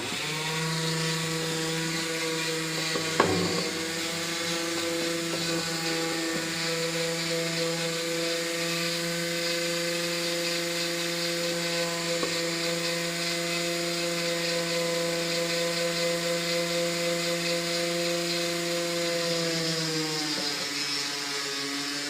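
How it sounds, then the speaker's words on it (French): A Dremel rotary tool drills through a small piece with a continuous, close, high-pitched whine that holds steady for about twenty seconds and then drops in pitch at the end. No one speaks. "Voilà, je l'ai équipé sur ma Dremel. Et je vais percer."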